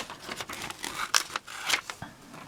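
Scissors snip through glossy magazine pages while images are cut out for a collage glue book, giving a few quiet, close crisp snips and paper rustles at an uneven pace.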